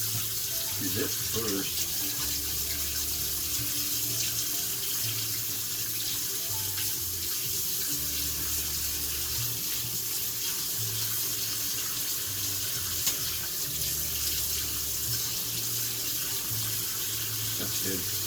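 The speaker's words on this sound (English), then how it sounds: "I gotta drain this sucker" Instant noodles drain in a kitchen sink under a steady, continuous stream of running water, with a brief spoken remark over it.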